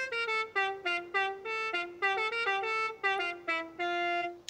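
In the racing game Forza Horizon 5, a Morgan Aero GT's Deck the Halls car horn plays the festive tune as a bright, loud, buzzy series of short honked notes in a quick, bouncing rhythm, heard alone.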